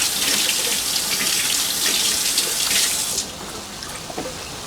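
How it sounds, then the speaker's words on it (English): Cold tap water runs steadily over hands being rinsed after rubbing them with salt to remove fish scent, a close, hissing splash that softens near the end. "You just wet your hands, sprinkle salt in them, rub them together, and mix them in cold water."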